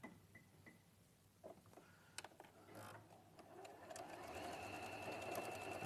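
Home sewing machine stitching along a fabric edge, its motor hum building steadily after some light handling clicks, running continuous and moderately close near the end.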